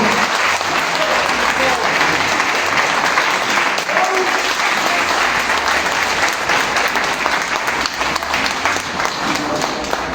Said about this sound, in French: On acclame très fort.